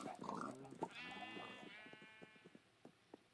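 Multicolored sheep bleat in a video game, with one drawn-out bleat after a brief noisy start. Soft clicks follow, all faint and at a distance.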